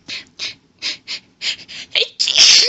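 A woman has a sneezing fit while reading a story aloud, with a run of about eight quick, close sneezes and gasps in steady rhythm, ending in a louder, longer burst.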